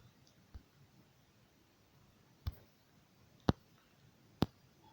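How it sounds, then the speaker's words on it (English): Several sharp, isolated mouse button clicks made while typing with a pointer on the Windows on-screen keyboard, spaced about a second apart, close and fairly soft over a quiet background. "Now type using the mouse or other pointing device by just clicking the required key"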